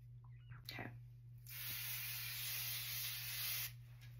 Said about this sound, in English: I finish off with the Curel Intensive Moisture Care Spray